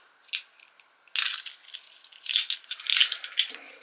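Metal keys jingle and clink in a few bursts, starting with a single light rattle and then several busier jangles close by.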